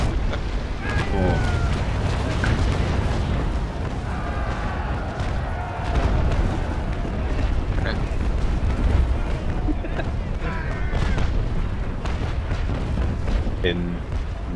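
Heavy ship cannon booms go off repeatedly in the naval video game Naval Action, amid rumbling noise, with people talking over the gunfire.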